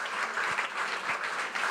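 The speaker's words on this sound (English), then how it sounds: "now a big, big round of applause for Cylib, Webasto and Porsche" An audience at an innovation award presentation claps continuously, a brief, even burst of many hands applauding at moderate volume with no speech on top.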